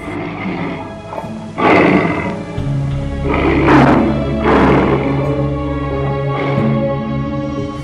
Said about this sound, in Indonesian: kerap terdengar suara auman harimau dari dalam hutan Sancang